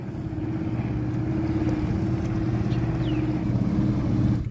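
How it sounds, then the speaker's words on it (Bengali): A motorboat travels on a river leading into a large wetland, its engine a steady low drone with constant rumble and wind noise, even and close throughout. "ইতিমধ্যে নদীতে নৌকা আসতেছে দেখতে পারতেছেন"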